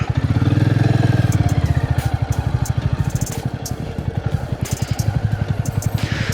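A motorcycle rides along a dirt road near Pushkar, its engine giving a close, loud, steady rapid thumping that holds through the whole stretch.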